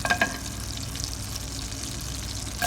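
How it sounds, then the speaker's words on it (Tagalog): Butter melts in a frying pan, giving a soft, steady low sizzle with a few small pops at the start, fairly quiet and without talk. "Lagyan ko muna yung kawali ng butter guys. Tunawin ko muna bago ko ilalagay yung yung onion."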